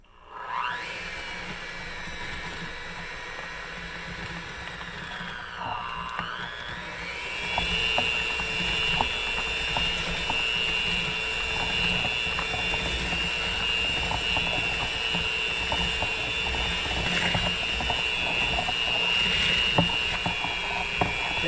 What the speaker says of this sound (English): we're going to get our Cuisinart or KitchenAid mixer and just mix this until it looks nice and creamy